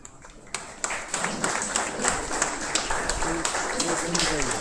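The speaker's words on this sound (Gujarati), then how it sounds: "જોરદાર તાળીઓથી" An audience at an annual prize distribution ceremony breaks into applause, many hands clapping continuously and fairly near, with a voice heard over the clapping.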